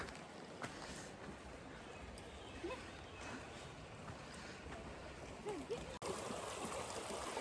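Steady broadband rush of Craig Creek flowing along a hiking trail, a constant close water wash with faint wind, low and even throughout, a small click near the end.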